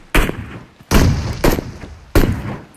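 Four sharp, loud gunshots from the mobile video game PUBG Mobile, fired in uneven succession with short pauses between them.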